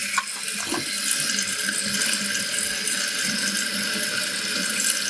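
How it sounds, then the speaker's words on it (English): Toilet tank refilling as the water supply is turned back on, a steady continuous rush of running water close by with a faint squeal, no talking. "we'll go ahead and turn back on the water"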